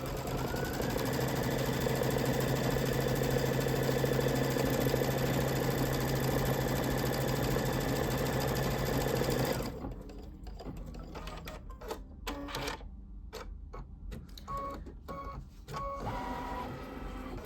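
An embroidery sewing machine stitches a placement line for a kite design in a hoop, a loud steady mechanical whir and rapid needle clatter that runs continuously, then stops abruptly, leaving quieter handling noises.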